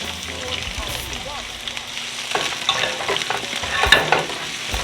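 Peppers and onion hiss and crackle as they sauté in a pan for vegan fried rice, with the sizzle swelling louder toward the end and a few scraping stirs close by.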